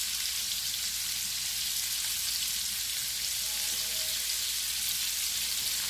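Shrimp frying with garlic in a crowded pan make a steady, even sizzle that fills the scene, a continuous bright crackle with no talking.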